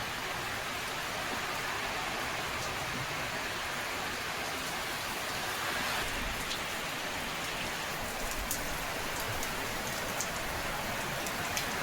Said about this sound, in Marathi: पाऊस येईल म्हणलं लगेच पाऊस यायला लागला